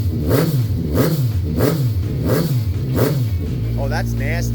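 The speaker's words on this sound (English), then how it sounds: "Listen to that. Oh my goodness, that is a deep sounding motor." A 2016 Kawasaki Ninja 1000 sport-touring motorcycle engine, up close and loud, revs in four quick rising and falling blips before settling into a steady, deep idle.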